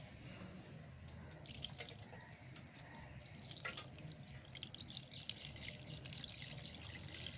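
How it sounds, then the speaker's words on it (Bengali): Water mixed with flour is poured through a sieve for neshesta halwa, making a faint, quiet trickle and scattered drips against low background noise. "এখন পানিটা এর মধ্যে দিয়ে ছেঁকে নিচ্ছি"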